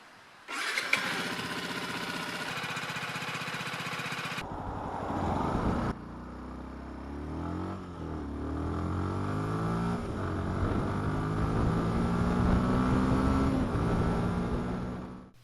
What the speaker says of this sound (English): Firstly, warm the engine so the oil will drain out faster.